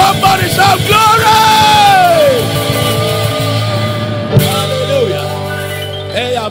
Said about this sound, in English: Do that with a joyful shout